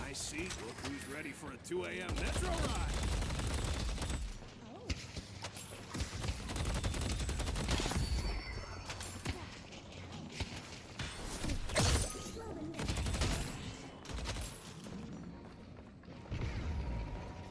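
Rapid weapon fire in the Deadlock game, with bursts of shots, clattering impacts and mechanical clicks coming in uneven waves and short gaps, mixed with someone talking over the action.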